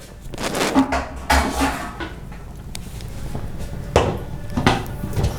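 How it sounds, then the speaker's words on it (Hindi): Clattering metal kitchen sounds: a lid set down on a pressure cooker of kadhi pakora over a low flame, with a few sharp clanks spaced apart amid light rustling. "I am going to cover the lid."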